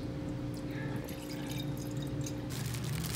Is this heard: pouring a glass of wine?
yes